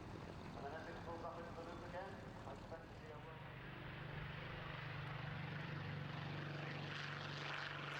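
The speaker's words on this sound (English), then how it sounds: "Three of them take off together." Three vintage propeller fighters, Hawker biplanes of the Gladiator and Nimrod kind, take off together at Duxford, their engines a broad steady drone that swells and holds a sustained hum while a commentator talks over it.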